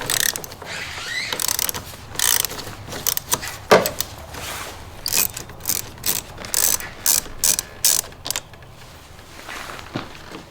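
Ratchet unscrewing the battery terminal on a Ford Raptor, loud close clicking bursts in short repeated strokes with brief pauses between them, no talk.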